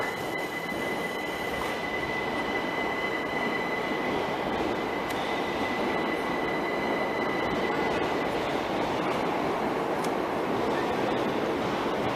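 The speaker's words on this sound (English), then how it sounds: "so this is outside the Victorian railway station," A train rumbles steadily along the rails outside a Victorian railway station, with a sustained high metallic wheel squeal over the din, loud and continuous with no talking.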